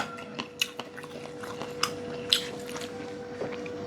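Close, soft wet chewing of konjac noodles, with a scattering of small squishy bites and smacks over steady room hum.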